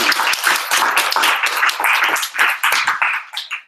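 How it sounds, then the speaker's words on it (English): Applause from an audience at an entrepreneurs' social event on virtual and augmented reality: dense, steady clapping fills the room for several seconds, rising slightly near the end and then tapering off. "give a warm round of applause to Jon Masters."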